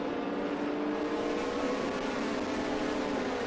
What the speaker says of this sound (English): overtaking Polygato there, I believe